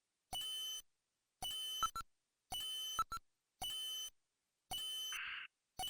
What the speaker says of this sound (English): I hear something that sounds like a timer.